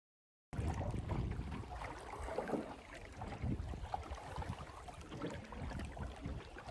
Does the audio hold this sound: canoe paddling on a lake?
yes